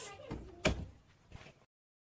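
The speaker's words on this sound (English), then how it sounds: "I'm just gonna close the door completely." An indoor door swinging shut, with one sharp, fairly close thud near the middle followed by a softer knock and rattle as it settles, then silence.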